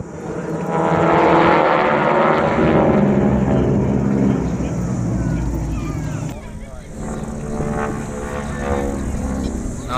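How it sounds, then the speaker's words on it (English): Vintage propeller airplanes pass overhead, a steady droning roar that swells and lingers for several seconds, with people talking nearby and wind and crowd noise in the background. "Nice to see the vintage airplanes out and showing off."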